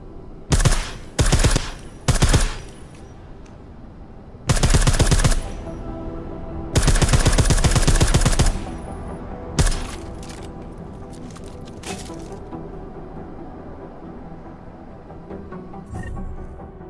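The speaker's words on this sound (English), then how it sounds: "I like how silencers reduce sound, but the trade-off is less stopping power, less damage per hit" Silenced gunfire in the video game Deus Ex: Mankind Divided, several loud bursts of rapid shots spaced apart, followed by a few single quieter shots and near silence.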